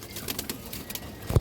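Domestic pigeons kept for sale, flying breeds, give a soft coo near the end of a quiet stretch with faint rustling and no talk.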